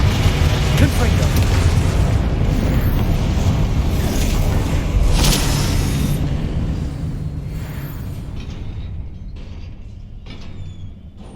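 A Confringo blasting spell goes off in Hogwarts Legacy, a loud rumbling explosion with a booming low roar that slowly fades over several seconds amid spell-casting voices.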